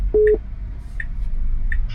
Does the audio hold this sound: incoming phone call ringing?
yes